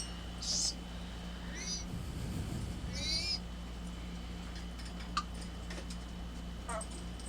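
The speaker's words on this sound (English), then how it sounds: "that is my bird Harley. She's an African gray" An African grey parrot calls in the background of an indoor room, letting out a few short, faint whistles and chirps over a steady low hum, with no talking.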